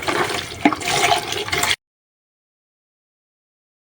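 Clean water is poured to rinse a surface during cleaning, making a steady loud splashing gush for under two seconds before it stops abruptly.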